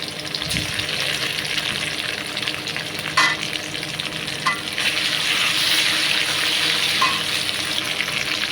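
Garlic and cumin paste fries in a pan for a kachha kathal dish, giving a steady, close sizzle with a few sharper spatters and stirring scrapes along the way.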